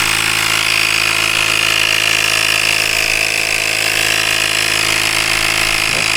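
Auxito portable air compressor for a motorcycle riding tool bag runs steadily, a loud, close, continuous buzzing whine with no talking.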